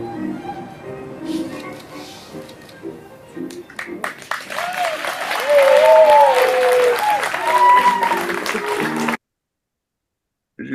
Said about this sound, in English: I included a little applause there